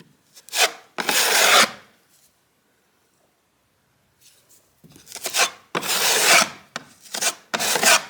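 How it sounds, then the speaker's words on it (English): Mortar pressed into the seams of a faux brick fireplace and scraped, heard as close, loud rasping strokes in two bursts, a quiet pause, then a longer run of repeated scraping. "So I'm basically just pushing it into the seams like grout"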